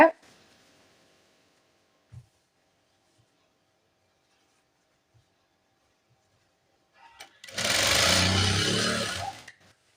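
A sewing machine stitches nurse uniform pants in one continuous buzzing run of about two and a half seconds, close and fairly loud, following a long stretch of near silence with a couple of faint clicks.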